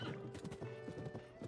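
Rhythmic clip-clop of hooves with a horse whinnying over it in The Legend of Zelda: Tears of the Kingdom, steady and fairly loud, with a faint background tone.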